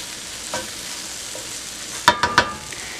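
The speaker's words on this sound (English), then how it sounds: "After about a minute or two of sautéing, the mushrooms are starting to brown and the flour is starting to stick to the bottom of the pan." Mushrooms with flour sautéing in a pan under a soft, steady sizzle, broken by a brief stir early on and a quick cluster of three scraping stirs near the end.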